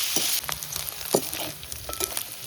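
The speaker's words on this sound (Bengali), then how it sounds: "এবার এটা ভাজা ভাজা হবে।" Grated coconut with salt and turmeric frying in a pan in a village kitchen, a soft, steady sizzle broken by a few light scraping stirs, close and fairly quiet with no voices.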